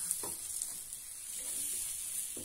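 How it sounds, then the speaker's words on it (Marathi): Masala dosa batter sizzles on a small griddle pan, a soft steady frying hiss with a few faint scraping touches, quiet and without talk. "तव्यावर डोसा फिरवू शकतो"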